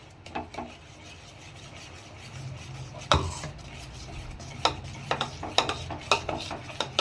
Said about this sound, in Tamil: கைவிடாமல் கிண்டிக்கிட்டே இருக்கணும்